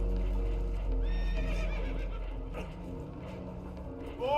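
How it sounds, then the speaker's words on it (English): Spooked horses in Red Dead Redemption 2 give several high whinnies over a steady low rumble of a boat taking on water, with hooves clopping nearby and a final sharp neigh at the end. "Horses are spooked, and we're taking on water."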